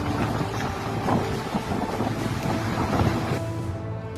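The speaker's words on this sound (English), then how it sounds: "A sudden gust of wind swept through, sending outdoor furniture flying as if it weighed nothing." Steady roaring wind batters the microphone with rumbling gusts, a constant loud blustery wash with no voices.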